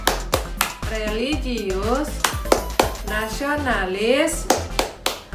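A teacher claps out a rhythmic PPK class routine, crisp close claps in short patterned bursts interleaved with her chanting voice.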